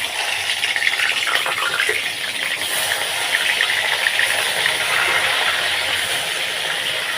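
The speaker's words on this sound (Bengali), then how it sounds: "তেল আমার গরম হয়ে গেছে। আমি এবার এই মাগুর মাছগুলোকে দিয়ে দেব।" Magur catfish frying in hot oil, a steady, dense sizzle and hiss that stays loud and even throughout, close up with no talk.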